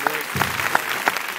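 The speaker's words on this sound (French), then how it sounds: "Vous pouvez l'applaudir parce que c'était pas gagné." An audience applauds a swimming coach, a brief patch of scattered clapping with a few distinct claps standing out, moderately close, under a low room murmur.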